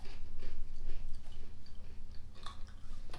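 Australian Cadbury honeycomb candy, hollow and sponge-like, crunched and chewed close to the mic in a steady run of crisp bites and mastication, with no talk over it.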